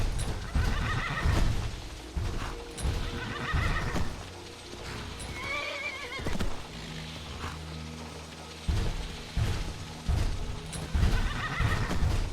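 A horse in the video game Skyrim whinnies and snorts several times over steady clip-clopping hooves, the calls loud and close amid a busy game soundscape.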